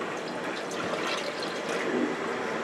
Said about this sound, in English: we're going to pour that in here